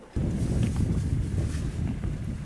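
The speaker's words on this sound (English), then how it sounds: "The wind cuts down the valley and is bitterly cold" Bitterly cold wind cuts down a valley near a border crossing, buffeting the microphone with a loud, continuous low roar and gusty rumble that starts abruptly and holds steady.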